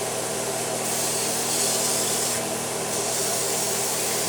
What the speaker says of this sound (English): Give them a nice little spritz so the seasoning will stick to them nicely.